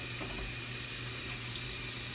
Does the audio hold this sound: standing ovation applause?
no